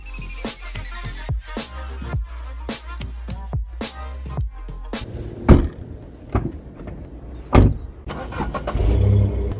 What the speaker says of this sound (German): Dann schmeiße ich mich mal wieder ins Auto und cruisen zum nächsten Spot.